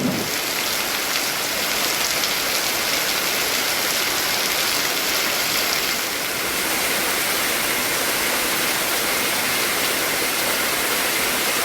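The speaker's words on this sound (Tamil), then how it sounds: "வறண்டு காணப்பட்ட அருவிகளில் அதிகரிக்க தொடங்கிய நீர்வரத்து." Water pours down a hillside waterfall in the Kanyakumari district after an hour of heavy rain. It makes a dense, constant rushing roar that stays loud and steady throughout, with no voices.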